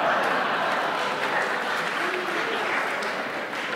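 Steady audience applause fills a mayor's panel on homelessness in Victoria, BC, a dense wash of clapping with some laughter and voices mixed in, holding constant throughout.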